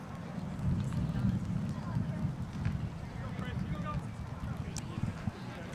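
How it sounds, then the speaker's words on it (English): Wind gusting across a microphone at an outdoor high school baseball game, Everglades Gators at North Broward Eagles, a steady low rumble with buffeting that runs loud and unbroken throughout. "The wind is still blowing."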